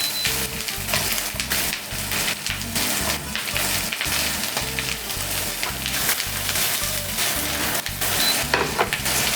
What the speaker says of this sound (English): now the meat is frying in their own fat.